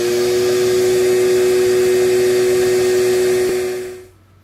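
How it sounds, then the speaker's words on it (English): A 15 amp shop vacuum powered by a Bluetti AC180 solar generator runs with a steady, loud whine and rushing airflow, then shuts off and winds down quickly near the end. "No trouble at all for a 15 amp shop vac."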